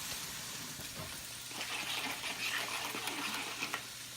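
Chicken sizzles and fries in a pan at a quick dinner, a steady crackling hiss with occasional stirring clatter and small pops, close and moderately loud with no speech.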